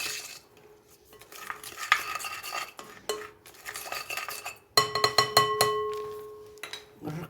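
Utensil stirring and clinking in a bowl of sardine marinade made with salt, paprika, cumin and oil, with steady scraping strokes and sharp metallic taps building louder toward the end, no talk.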